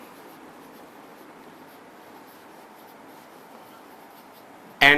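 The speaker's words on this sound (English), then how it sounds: "Here we can write an exception." Faint, steady scratching of writing on a board during a lecture continues for about five seconds. It ends with a brief, louder knock.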